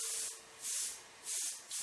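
Airbrush spraying dark brown paint onto a diamond plate surface, three short bursts of airy hiss with pauses between, close and fairly soft.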